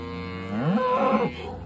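A single drawn-out cow moo on a farm, close and clear, rising then falling in pitch over about a second, with cattle being moved through a gate.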